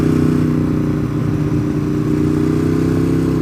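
A red motorcycle riding the Deals Gap road hums with a loud, steady engine drone close by, its tone holding even throughout with slight wind rush and no talking.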